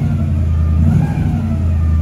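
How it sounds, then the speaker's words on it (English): A 1958 Oldsmobile Super 88 coupe's Rocket 88 V8 revs briefly in a showroom, the exhaust note rising in a quick blip over a deep rumbling idle, loud and close. "Sounds great, drives great, you hear the exhaust."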